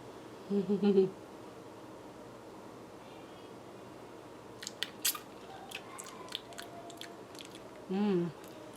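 A person tastes berry jam, with a few soft, close crunchy chewing and mouth sounds in short bursts separated by quiet pauses, plus faint light clicks.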